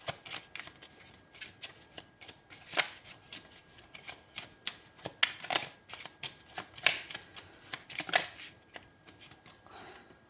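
Playing cards shuffled by hand during a tarot-style reading, a run of crisp riffling bursts and flicks that rise and fall in close succession over about ten seconds, heard close with no talking.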